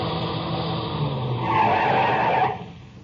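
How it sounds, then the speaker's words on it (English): A car comes over a rise on a rough dirt road at night, its engine whining and tyres scraping in a rising, swelling rush that peaks midway and then fades quickly. "I heard the whine of a car coming over the rise in the rough road"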